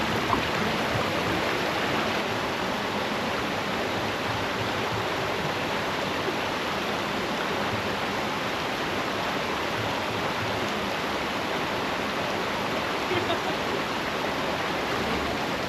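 Spring water flowing at the Sacramento River headwaters on Mount Shasta, a steady close rushing and babbling stream that stays constant throughout without talk.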